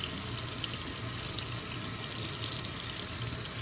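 Tap water runs steadily into a sink, rinsing a dissolving pre-printed embroidery design sticker off stitched fabric; a continuous close hiss and splash throughout, with no talking.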